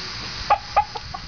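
A chicken near the coop gives a few short clucks in quick succession, close and clear over faint background noise.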